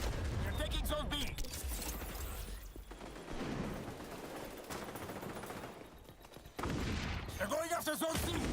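Call of Duty MWIII multiplayer match with bursts of rapid gunfire and clattering mechanical effects, and a tossed grenade somewhere among the ongoing game noise, with voices heard faintly.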